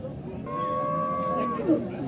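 A single cow gives one loud, sustained moo of about a second at a busy cattle market in Horgoj, Manikganj, over a steady murmur of background crowd noise.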